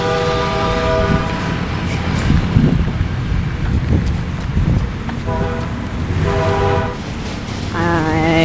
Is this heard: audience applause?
no